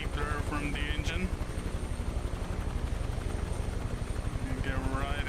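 A UH-1H Huey helicopter in Microsoft Flight Simulator gives a loud, close, rhythmic rotor thump over a steady engine whine, while a person talks over it at the start and end.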